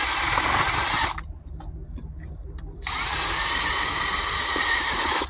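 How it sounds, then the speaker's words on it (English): A handheld power drill mixes dirt, grinding loud and steady for about a second, falls quiet briefly, then whirs hard again until the end. "I keep my drill against my thigh here because it will rip your wrist out."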